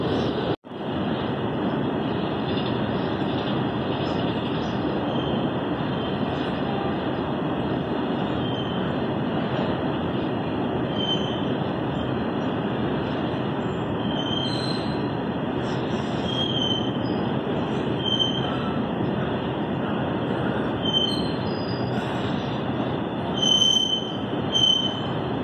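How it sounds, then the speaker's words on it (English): Twin WDG4 diesel locomotives haul a BOXN freight rake away from the station, a steady loud rolling rumble of wheels and wagons continuing throughout with faint squeals above it. "BOXN Rake is departing with some WDG 4 twins"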